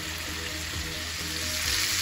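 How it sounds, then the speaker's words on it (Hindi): Chicken pieces frying in a pan over a medium flame for butter chicken, giving a steady, close, continuous sizzle with no talking. "चिकन को मीडियम फ्लेम पर दोनों साइड से रेड होने तक फ्राई करना है।"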